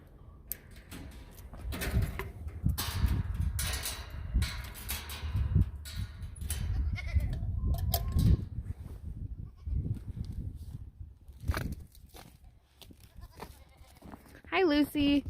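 Savanna goats bleating in a barn during winter, several loud nearby calls scattered through the stretch amid shuffling and a person talking.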